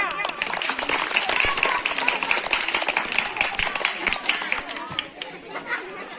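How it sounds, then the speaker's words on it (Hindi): A school crowd at a Teachers' Day programme breaks into applause, dense clapping mixed with chatter that swells early and then tapers off toward the end. "तालियां।"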